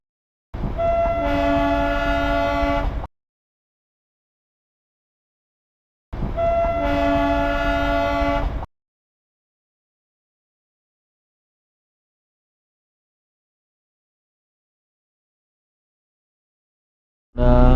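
Darjeeling Himalayan toy train on the run between Darjeeling and Kurseong near Tung, sounding two long, loud, tonal horn blasts a few seconds apart, with a third beginning at the very end.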